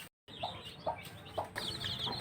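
Native hens at a hatching setup cluck in short, evenly spaced bursts, three or four nearby calls over a low background hum, after a brief silent gap at the start.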